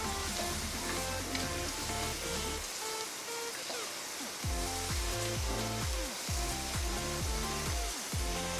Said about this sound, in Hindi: अच्छी तरह इसे मिक्स कर लें।